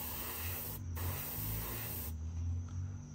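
Steady close hiss of spray paint being applied to a fishing lure, continuous with a brief dropout near the start and a fainter, thinner stream toward the end.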